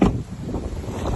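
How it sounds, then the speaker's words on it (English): Steady wind rushes across open mudflats by the sea, a close, continuous buffeting roar on the microphone with no voices. "there's a bit of a wind on, isn't there today, Richie?"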